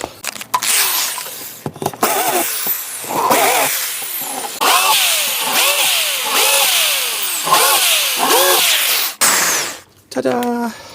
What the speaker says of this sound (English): and we countersink the backs.